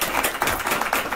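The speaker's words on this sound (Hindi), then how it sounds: "इनका नाम पर ताली बजाओ" Dense applause from a crowd of devotees gathered for a kirtan in a home, a steady wash of many hands clapping at once, fairly close and loud throughout.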